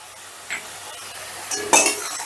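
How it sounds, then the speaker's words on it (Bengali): Spice masala stir-fries in oil in a pan, with a low steady sizzle under a few sharp spatula scrapes and clinks against the metal, the loudest strike near the end. "এবারে মশলাটাকে আমি বেশ ভালো করে কষে নিচ্ছি"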